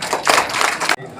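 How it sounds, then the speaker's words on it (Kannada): An audience at a Kulala community event in Dakshina Kannada claps, loud and dense, with a voice mixed in before the sound cuts off abruptly. "ಆ ಮನಸ್ಸಿಗೆ ಚಪ್ಪಾಳೆಯನ್ನು ಕೊಡಿ."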